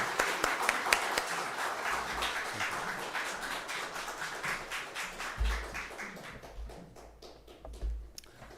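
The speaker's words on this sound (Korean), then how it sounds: "우리 목사님 나오실 때 박수로 환영하겠습니다" A church congregation applauds to welcome a pastor at a Sunday service, a dense, steady wash of clapping that gradually thins and fades out over several seconds, with low thumps near the end.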